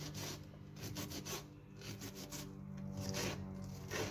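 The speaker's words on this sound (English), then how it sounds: "We are going to start off by chopping half an onion." Half a red onion being chopped with a knife on a cutting board: soft, close rasping knife strokes in a quick, uneven rhythm, fairly quiet with no talking.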